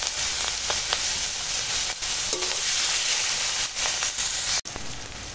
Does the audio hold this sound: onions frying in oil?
yes